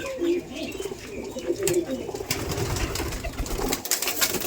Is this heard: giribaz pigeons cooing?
yes